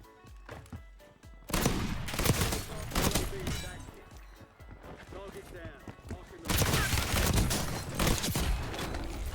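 Shotgun fire in the video game Warzone, likely a pump shotgun, comes as loud, dense bursts of blasts. They start after a quieter opening, ease off, then return with heavier force near the end, with game noise underneath.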